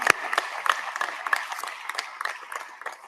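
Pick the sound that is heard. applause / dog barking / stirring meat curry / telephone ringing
applause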